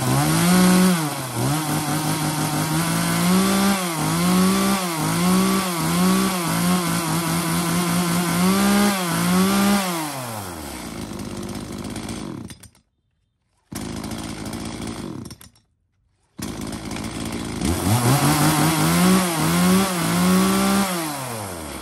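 A used Japanese chainsaw offered for sale, with a bar suited to logs of about 25 to 30 cm, runs loud and close. It revs in a rapid pulsing rhythm, cuts out briefly twice, then restarts and revs again.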